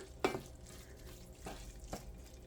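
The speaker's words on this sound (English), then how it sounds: "I do want this to simmer for 15 minutes" Ground beef simmering in a pan, a faint, steady bubbling sizzle with a few soft stirring scrapes, one sharper knock near the start. No one talks.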